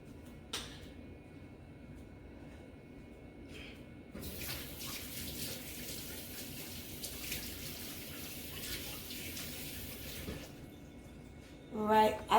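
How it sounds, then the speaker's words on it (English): Tap water runs steadily into a kitchen sink for about six seconds as hands are washed while making meatloaf, with a short clatter of dishes just after the water stops. "Let me wash my hands right quick."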